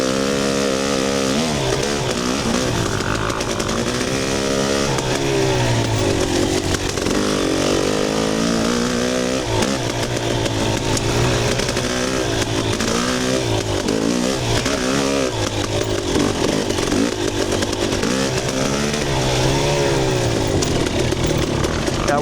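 KTM 300 two-stroke dirt bike racing a lap at Stony Lonesome in Bremen, Alabama, its engine droning loud and constant, rising and falling with revs and shifts from the rider's perspective.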